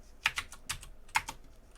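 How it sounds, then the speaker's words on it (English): Several quick, crisp keystrokes on a computer keyboard as code is typed, close and fairly quiet, coming in short irregular clusters with no talking. "I'm going to type in let x equal"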